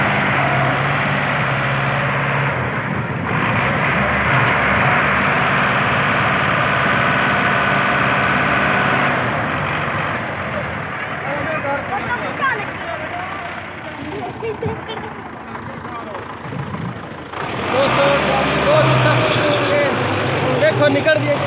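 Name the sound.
tractor engine pulling a stuck trolley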